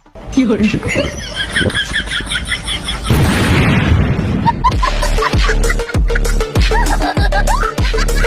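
A bomb blasts in a loud, broad burst midway through, following voices and laughter, with rhythmic thumping booms and chatter afterward.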